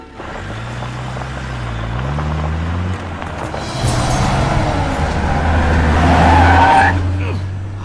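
A car revs and pulls away at speed with a sustained engine roar and tire noise, loud and close, rising toward the end, with a voice heard briefly at the start.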